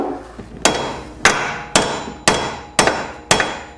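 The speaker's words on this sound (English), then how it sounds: "here's our lovely hammer that we're going to give it some attitude adjustment with" Six sharp, evenly spaced metallic hammer blows strike a Jeep XJ front wheel hub close by to break it loose, each strike followed by a short ringing decay.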